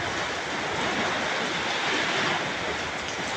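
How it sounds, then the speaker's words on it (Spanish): Heavy rain pours down steadily, a dense, loud broadband wash that stays constant throughout with no voices. "Fuertísimo la lluvia, pues."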